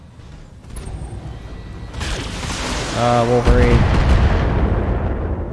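LRM ammunition cooking off inside a mech in the BattleTech video game, a rumbling boom that swells and holds loud over a steady battle din, with a voice speaking and synthetic tones chirping over it.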